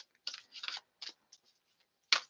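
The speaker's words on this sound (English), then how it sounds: "since I already started shuffling" A deck of oracle cards is shuffled in a few quick, soft riffling bursts with short pauses between, ending in one sharper snap, close by and without talk.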